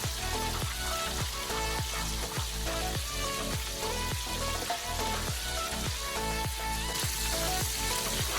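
A sweet and spicy chicken-wing sauce of barbecue sauce and hot sauce bubbles and reduces in a pan, with a steady sizzle and a regular scraping, stirring rhythm close up.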